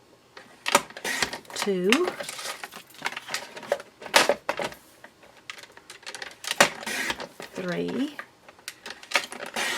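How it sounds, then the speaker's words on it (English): Cardstock pieces sliced on a paper trimmer for a stamping craft project: several sharp, crisp cutting swipes and clicks come close up, spaced irregularly between stretches of someone talking. "So I'm going to cut these at 4 inches."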